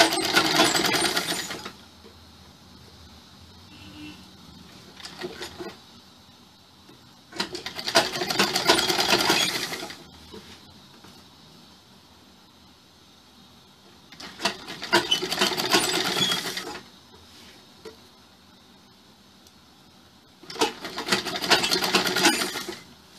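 Sewing machine stitching a blouse, running in four bursts of about two seconds each with quiet gaps between, loud and close.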